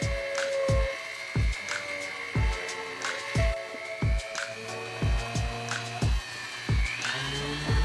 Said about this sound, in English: we're going to drill those holes and get them exactly where we had marked out